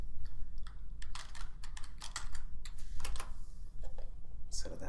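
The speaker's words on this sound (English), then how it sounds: "you can type in a word" Keys on a computer keyboard are typed in quick, uneven bursts of crisp clicks, close by, with brief pauses between runs of keystrokes.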